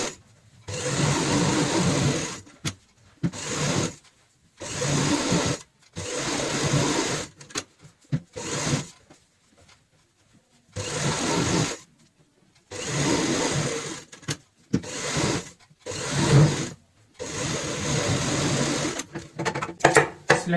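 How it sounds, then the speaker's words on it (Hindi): A sewing machine stitches cushion cover fabric in repeated bursts of fast, steady whirring. Each run lasts one to three seconds, with short silent pauses between runs. The machine is close and loud. "अब हम यहाँ पे ऊपर की साइड इस तरीके से मिलाते हुए सिलाई लगाएंगे।"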